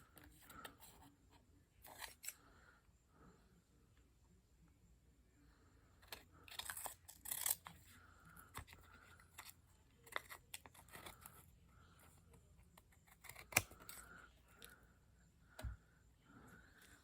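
Scissors trim a rusty, grungy photo tag in a few quiet, close snips and crisp cuts, separated by soft handling noises with pauses between them.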